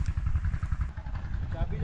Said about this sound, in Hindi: लो जी ये ट्रैक्टर है, इस ट्रैक्टर के ज़रिए हल चलाया जाता है।